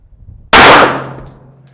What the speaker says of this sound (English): 5 shots with the Caldwell on the middle target.